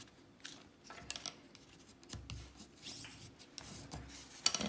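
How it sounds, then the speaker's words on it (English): Paper for a pocket card holder is folded at a corner into a small triangle, giving soft, close rustles, scrapes and creasing taps in quiet, irregular bursts. "you're gonna fold like a little triangle that is gonna connect to the bottom fold"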